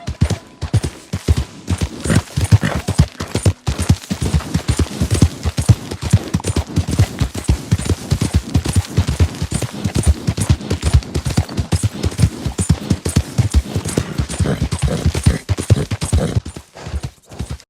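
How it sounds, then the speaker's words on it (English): Horse hooves clip-clop steadily in Red Dead Redemption, a dense, rapid run of close, loud hoofbeats that carries on for most of the stretch with no voices over it. "Look at that horse there."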